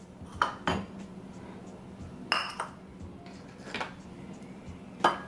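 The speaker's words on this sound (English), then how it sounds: "And then we're gonna grab 2 bowls." Bowls being picked up and set down on a kitchen counter while cooking, several separate clinks and knocks of dishes spread across a few seconds, close and moderately loud, with no talking.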